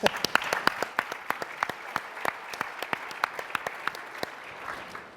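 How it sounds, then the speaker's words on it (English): An audience at an evening opening event gives a round of applause, with crisp individual claps standing out clearly at first and then thinning gradually toward the end. "let's clap for that"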